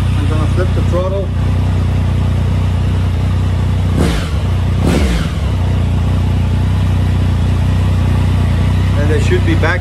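A Triumph Tiger 1050 motorcycle engine with freshly balanced throttle bodies idles steadily up close, then gives two sharp throttle blips that spike the revs and fall back to idle.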